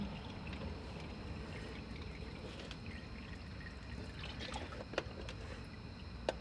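Hot engine oil from a Dodge Challenger ScatPack Shaker drains into a milk carton with a steady, soft pouring rush under a low background hum, plus a couple of faint clicks near the end.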